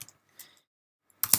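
Keys on a computer keyboard tap in short bursts while code is typed, with a few light scattered presses, a pause, then a quicker closer flurry at the end.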